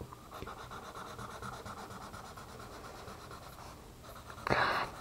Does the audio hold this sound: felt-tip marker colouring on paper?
yes